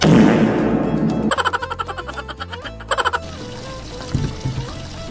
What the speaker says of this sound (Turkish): Gördüğünüz gibi ben ilk olarak ellerimi yüzümü yıkıyorum ya da duş alıyorum.